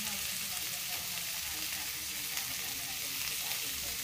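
Food sizzling in a pan as turmeric and pepper are stirred in, a continuous crisp frying hiss with faint scraping of the stir, fairly quiet and close, with no one talking.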